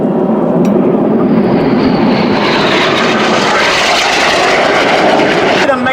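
Two Hawker Hunter jets of a synchro pair roar past at an air show, closing at high speed; a loud, sustained broadband jet rush swells across the pass, with a commentator's voice faintly under the engine noise.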